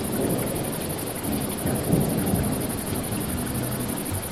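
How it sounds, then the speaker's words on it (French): Heavy rain pours down with low thunder rumbling through it, a steady dense wash of sound that stays loud and continuous from start to finish, with no voices. "il se met à pleuvoir à verse, comme si toutes les écluses du ciel s'étaient ouvertes"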